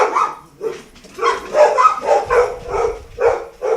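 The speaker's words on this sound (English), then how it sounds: "I apologize if you might hear some dog noises in the back." Several dogs bark indoors in a house, a close, loud run of repeated barks and yips in an uneven rhythm, with a whimper mixed in and no talking.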